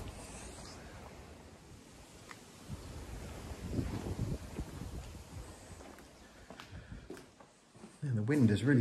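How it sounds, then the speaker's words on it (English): Strong wind gusts roar and buffet the microphone outdoors in a Portuguese village, swelling louder toward the end, with faint movement and footsteps underneath. "the wind has really picked up"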